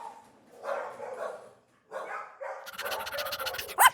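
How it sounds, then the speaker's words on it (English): A dog barks several times nearby, its sharp barks mixed with whimpering yelps and a final high yip. "George heard barking."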